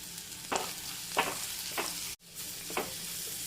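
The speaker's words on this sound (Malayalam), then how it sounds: "ഇളക്കി കൊടുത്തോണ്ടിരിക്കണം. ഇതൊന്ന് വാടി വരട്ടെ." Curry leaves, onion and green chillies frying in a pan for okra curry, a constant hissing sizzle broken by a few distinct stirring scrapes, close and fairly quiet, with a brief dropout near the middle.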